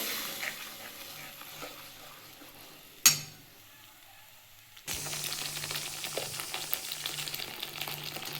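Banana stem paste frying in a pan, a steady close sizzle with occasional stirring clinks, broken by a sharp knock and a few quieter seconds before the sizzling returns at full strength.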